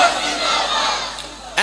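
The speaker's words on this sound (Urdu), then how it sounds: "آخر میں آپ نے بلند آواز سے نعرے کا جواب دینا ہے، تاجدار ختم نبوت۔" A large crowd at a political-religious rally shouts a slogan response in unison, a loud, brief roar of many voices that fades and then surges again at the end.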